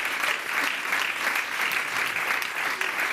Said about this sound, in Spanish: Este aplauso a mi madre